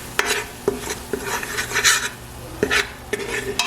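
Achar masala frying in a pot while being stirred, with irregular spoon scrapes and knocks against the metal over a soft sizzle, close and moderately loud.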